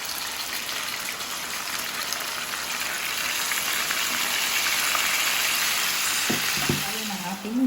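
Chicken bistek in a pan sizzles loudly as leftover marinade is added, a bright continuous frying hiss with bubbling; near the end a short scraping and stirring sound joins in.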